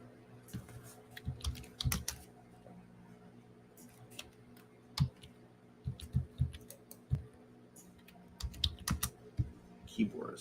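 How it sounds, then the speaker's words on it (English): Computer keyboard typing in a home trading room, irregular bursts of quiet clicking keystrokes with pauses between, close and soft over faint background hum. "keyboard is fighting me."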